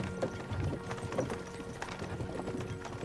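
Horses' hooves clip-clop at a steady walking pace in the medieval game Kingdom Come: Deliverance II, with soft creaks and rattles of tack and cart under a low ambient bed, no voices over it.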